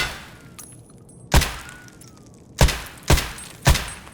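A suppressed rifle in Escape From Tarkov fires armor-piercing SP rounds, giving four heavy, bassy thumps spaced a second or so apart over quiet background hiss.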